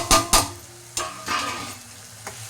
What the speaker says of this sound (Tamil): இப்போ இந்த வறுத்து வச்ச பிரண்டையை கொட்டிக்கலாம்.